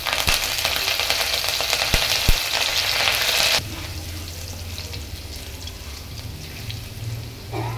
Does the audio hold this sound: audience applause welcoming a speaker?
no